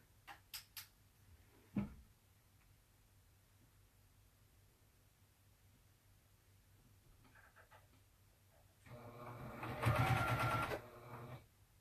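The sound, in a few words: sewing machine backstitching while sewing oven mitts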